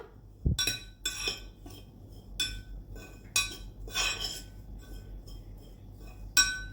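Chilli garlic oil ingredients with salt and sugar being mixed in a bowl, a spoon striking the rim in sharp, irregular metallic clinks spaced around half a second to a second apart, close and quiet.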